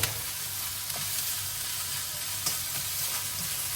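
Larb, minced meat, is stir-fried in a pan, giving a constant close sizzle with occasional light clicks and scrapes of the utensil as it is tossed.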